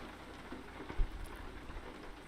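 Steady soft rain patters down in American Truck Simulator, a quiet, even hiss with one low thump near the middle.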